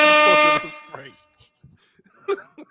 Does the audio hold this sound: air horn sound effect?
yes